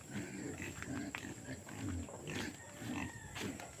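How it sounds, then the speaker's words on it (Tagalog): Pigs on a farm at feeding time give low grunts and squeals, mixed with clanks and general commotion at moderate distance against steady background noise. "Magpakain tayo ng baboy."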